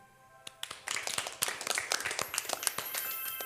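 Children clap in a lively, uneven burst that starts with a few scattered claps and quickly builds into sustained applause, close and fairly loud, no talk.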